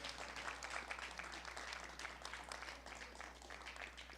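Applause from an industry-day conference audience at ICFF, a faint, steady wash of many hands clapping heard from a distance over a low hum, with no talking.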